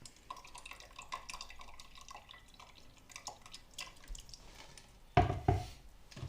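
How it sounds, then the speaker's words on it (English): Rowan berry liquid for rowan jelly drains through a strainer, giving faint, scattered drips and trickles, then two sharper, louder clatters close together near the end. "So let the liquid drain out."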